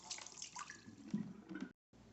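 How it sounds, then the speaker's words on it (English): Water is poured out of a Crane cool mist humidifier tank, a short run of close splashing and gurgling with drips, then a brief cut and a little more pouring. "So now we unplug it and dump out the water."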